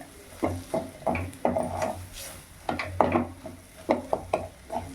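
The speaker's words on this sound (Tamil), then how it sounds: "இது கூடவே நம்ம கருவாடு போட்டு கலந்து விட்டுடலாங்க" A utensil scrapes and stirs dried seer fish (karuvadu) through hot oil and chili powder in a pan, a steady rhythm of close, distinct scraping strokes over a faint sizzle.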